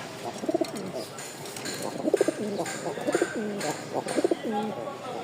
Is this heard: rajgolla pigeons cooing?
yes